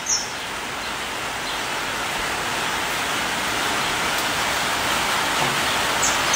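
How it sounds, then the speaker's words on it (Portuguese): Rain falling outside, a steady dense hiss of broadband noise that stays even and continuous throughout, with no voices. "Tá uma chuva gostosa lá fora,"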